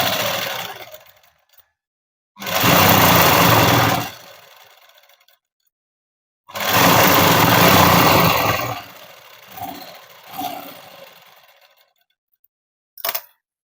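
An electric sewing machine stitches a folded edge of cloth for a dress, running in two steady, sustained bursts separated by quiet pauses, with faint handling noises afterward.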